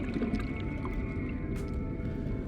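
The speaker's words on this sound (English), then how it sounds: "If you listen closely, you can hear a high-pitched screech similar to a dolphin." Jelly rays in the mushroom forest of the Subnautica video game, giving faint high-pitched dolphin-like screeches over a deep, constant underwater ambient hum.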